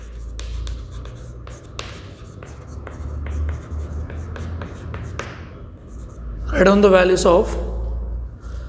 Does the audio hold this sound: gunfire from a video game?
no